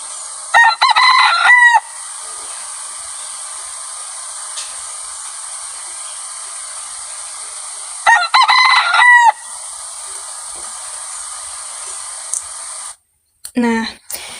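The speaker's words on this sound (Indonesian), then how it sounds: "Sekarang kita akan mengenal suara ayam berkokok." A rooster crows twice in loud, ringing bursts separated by a long pause, over a steady high hiss, with a short clattering noise at the very end.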